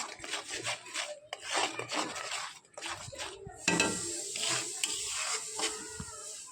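Spices, salt and chili powder sizzle and bubble in a pan for a rui fish curry, with soft scraping and stirring against the pan in an uneven rhythm, fairly quiet and close.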